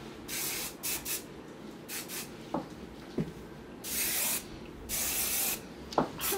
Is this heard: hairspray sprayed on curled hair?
yes